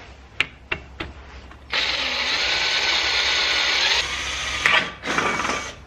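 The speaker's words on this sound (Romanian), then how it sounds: "Ăsta e borcanul, o să-i dau o gaură să pot să bag un șurub acolo." A power drill boring a hole into a jar, a few sharp taps first, then a steady whining drill run of about two seconds, a short pause with clicks, and a final brief burst of drilling.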